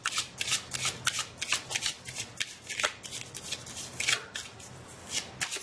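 Tarot cards are riffled and shuffled by hand, close up, in quick repeated bursts of crisp flapping that keep a steady rhythm throughout.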